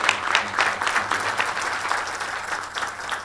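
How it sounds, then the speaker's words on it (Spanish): An audience at a public information event applauds, a dense burst of clapping that holds steady and fairly loud throughout, with no voices on top. "Un aplauso también."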